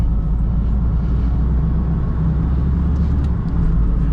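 A car is driven along steadily, its engine and road noise forming a loud, continuous low rumble from inside the cabin with no talk.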